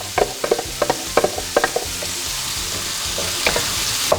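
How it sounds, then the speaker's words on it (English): Chopped onion sautéing in warm butter and olive oil for a prawn risotto, a steady sizzle close by with a quick run of crisp stirring scrapes early on, then a calmer frying hiss with a few scattered clicks, no voices. "let the onion saute for a while"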